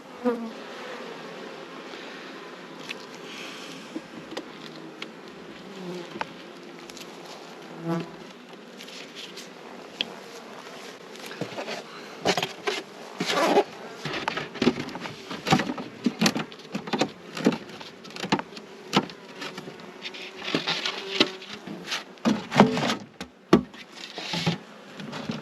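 Honey bees buzz around hives in a nuc yard in July, a continuous soft hum with close passes that swell louder, mixed with light taps and handling noises.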